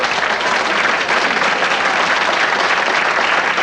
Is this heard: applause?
yes